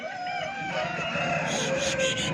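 An aseel rooster crows loudly and close in one long, sustained call at a Sunday poultry market in Pileru, with no voices over it.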